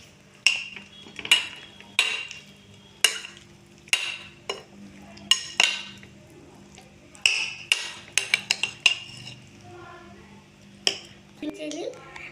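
A spoon mixes paneer sandwich filling with mayonnaise in a bowl, giving a series of sharp irregular clinks and scrapes with brief pauses between them, close by and with no talking.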